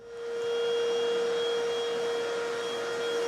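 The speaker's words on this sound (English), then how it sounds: "vacuum the floor up right now" A vacuum cleaner spins up and then runs in a steady, loud, high-pitched whine as it cleans an engineered hardwood floor in a townhome before a screen and recoat.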